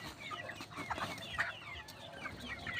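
Chickens clucking and chattering together, a busy, steady flock sound with scattered sharper calls and some background voices.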